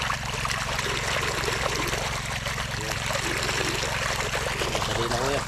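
Water flows out through a channel in a muddy field being readied for planting, a steady broadband rush and trickle up close that fills the whole stretch, with faint voices underneath.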